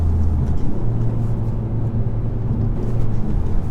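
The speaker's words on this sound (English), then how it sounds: "For a diesel, it loves to rev, like downshift into third, and it's got power all the way to the red line." A 2016 Ford Focus ST-3 diesel revs hard after a downshift into third, giving a loud, continuous engine hum with road rumble heard from inside the car and no voices.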